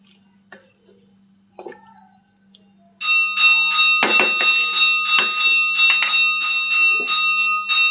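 A handbell rings during a mother's puja worship at home. It starts suddenly after a few faint clinks and keeps up a bright, continuous ringing, loud and close.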